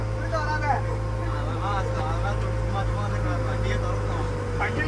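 A modified JCB driven in fourth gear gives a steady, loud engine drone throughout, with excited talking over the top.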